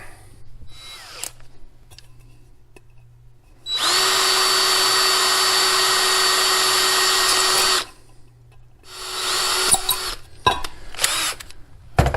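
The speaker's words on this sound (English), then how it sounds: "as I drill my holes" A power drill bores holes in an aluminum can for a simple homemade alcohol stove, giving one loud, steady whine of about four seconds, with shorter bursts of drilling and handling noise afterward.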